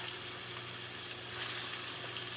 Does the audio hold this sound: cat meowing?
no